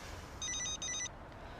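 A telephone rings indoors in two short electronic trilling bursts with a slight gap between them, moderately loud and clear, then stops and leaves quiet room tone with no talking.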